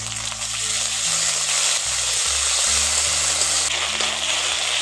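Onion with ginger-garlic paste sizzles steadily in a hot pan, a continuous close frying hiss with low stirring rumbles underneath, no voices.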